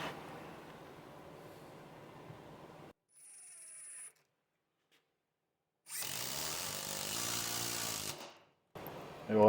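Metabo HPT 18v triple hammer impact driver driving a bolt, loud rattling hammering bursts separated by short pauses and a near-silent gap, with sharp high whine between bursts.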